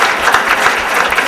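An audience at a visual-impairment employment conference claps briefly, a dense burst of many hands close together and fairly loud.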